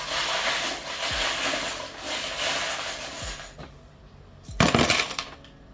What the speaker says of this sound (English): So I'm gonna just shuffle them around. It's gonna be loud.